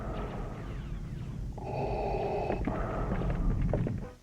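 Darth Vader's mechanical respirator breathing from Star Wars, a hissing, filtered inhale and exhale cycle heard alone with a steady, close, hollow tone and no talk.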